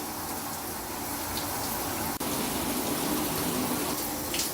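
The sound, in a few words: water sprayed on pet parrots for a shower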